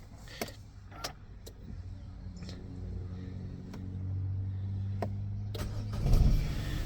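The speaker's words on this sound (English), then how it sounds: "I'll just start the car." 2021 Renault Clio Iconic 1.0 SCe petrol engine starting, scattered clicks and a low rumble building to a brief crank and catch near the end, recorded inside the car with no talking.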